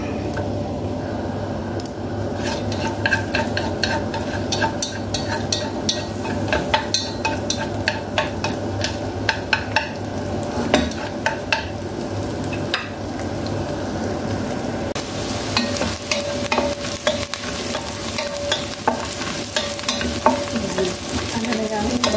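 Onion and garlic sizzle together in a little oil in a pan, a steady frying hiss with repeated stirring scrapes and clacks running throughout, close and fairly loud, with no talking.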